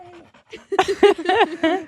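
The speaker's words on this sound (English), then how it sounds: "there's a beautiful dog" A dog pants and whines up close, quick breathy bursts mixed with short voiced yips and whimpers, loud and near with no other sound.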